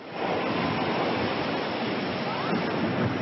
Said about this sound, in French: Des vagues de plus de 10 mètres de haut